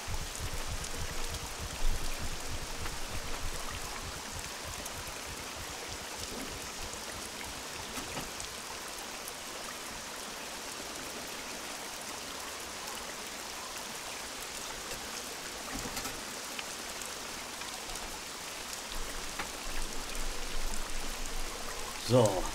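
Steady rain pours in the SCUM survival game, a dense continuous hiss of falling drops and surface patter with slight swells, someone speaking German over it at times.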